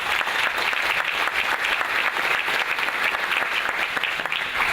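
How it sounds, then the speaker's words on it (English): Steady applause from an audience at a Good Friday breakfast, loud, close and continuous throughout with no talking over it. "Let's give them a round of applause."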